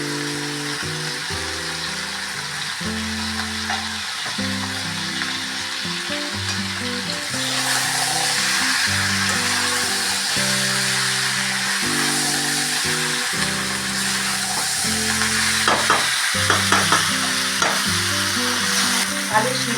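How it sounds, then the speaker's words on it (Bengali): Potatoes and spice masala frying in a pan for alur dom, a constant bright sizzle with stirring scrapes growing busier toward the end, playing under background music. "মশলাটা ভালো করে ভেজে নিলাম। নিয়ে আলুটা দিয়ে দিলাম,"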